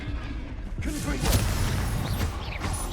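Confringo blasting curse bursting in Hogwarts Legacy: a low booming impact with crackling, whooshing debris that rolls on for a couple of seconds, loud and near, with a faint voice underneath.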